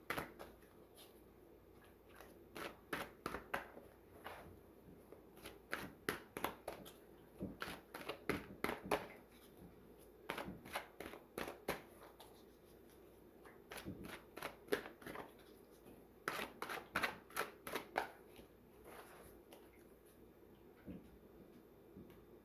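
Tarot-style cards shuffled and drawn from a deck at close range: repeated bursts of quick riffling flicks and snaps separated by quiet gaps, with no talking.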